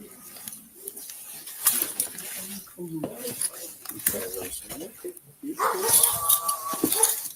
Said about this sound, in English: Another dog? Yeah, he's running around.